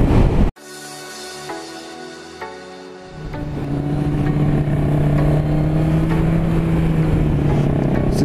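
Yamaha XSR 700 motorcycle on a test ride, its engine idling with a steady hum before swelling into a loud, sustained acceleration with rising engine pitch and rushing wind noise.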